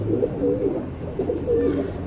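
A flying tournament pigeon cooing up close, two soft rolling coo phrases separated by a short pause, with no voices.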